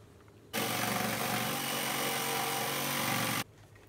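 A loud power saw whines steadily for about three seconds cutting wood, starting and stopping abruptly against a quiet background.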